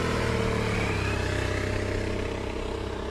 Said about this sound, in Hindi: गौरव ने तुरंत अपनी बाइक चाय की टपरी के सामने रोक दी।